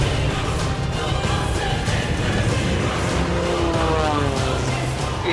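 A rally-bred car drives hard on a small rally course, a continuous roar of engine and rough tyre noise with rising and falling pitch, fairly loud and close with no talk.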